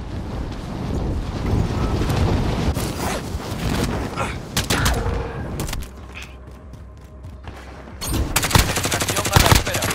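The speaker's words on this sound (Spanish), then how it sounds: "Ametralladora ligera." Light machine gun fire in the video game Warzone, with loud, dense automatic bursts close by, a brief quieter lull, then renewed rapid firing over wind-like background noise.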